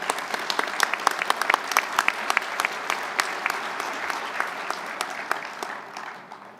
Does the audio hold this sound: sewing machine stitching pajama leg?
no